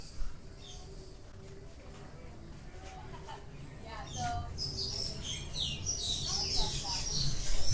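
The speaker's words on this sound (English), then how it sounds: "There's another beautiful bird over here." Bird chirps in a zoo enclosure at Disney's Animal Kingdom, with bright high twittering calls that grow louder and denser toward the end. They sit over steady background murmur and distant voices.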